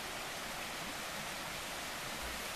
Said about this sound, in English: Up there's the rest of the Mill Prong Creek.